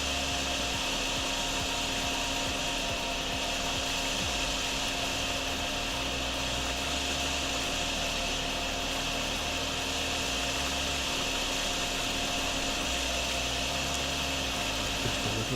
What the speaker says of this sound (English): we shall vacuum up this bit and try and get it down as quick as we can